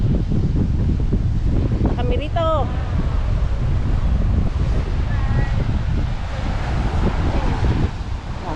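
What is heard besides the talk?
strong wind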